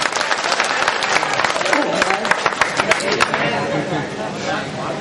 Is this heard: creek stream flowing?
no